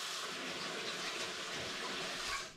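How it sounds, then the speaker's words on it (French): Running tap water pours steadily as fingers are rinsed beneath it during a gel press printing session, a continuous close splashing hiss filling the whole moment before fading at the end. "Donc je me rince les doigts."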